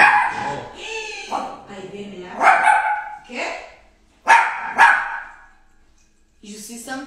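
A female dog barks several times nearby, loud sharp barks in irregular bursts with brief pauses between them.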